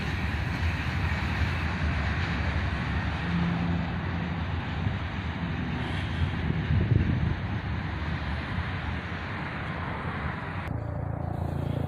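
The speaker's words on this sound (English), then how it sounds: "And some covered hoppers bring up the rear." A CSX freight train with covered hoppers at the rear rolls past, giving a steady, broad rumble and clatter mixed with wind noise, roughly constant in loudness throughout.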